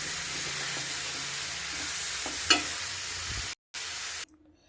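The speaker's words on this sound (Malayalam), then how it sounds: "കപ്പയിട്ടു ഇളക്കി യോജിപ്പിക്കാം" Tapioca being stirred into chilli masala in a pan, a soft sizzle with a few scraping stirs and one sharp clatter, close and quiet before the sound cuts out abruptly.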